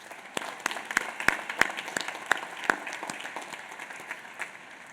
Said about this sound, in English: join me in a round of applause recognizing them and what they've accomplished